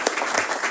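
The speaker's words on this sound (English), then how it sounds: "Let's clap." A conference audience bursts into brief applause, a dense wash of many hands clapping at once, loud and close, lasting under a second with no one speaking.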